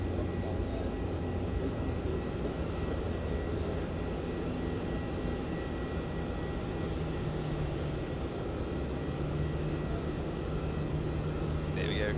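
Jetstar Airbus A321 in grey livery touching down at Melbourne Airport, a steady broadband jet roar with rumbling low end held throughout, moderately distant, with faint talk over it.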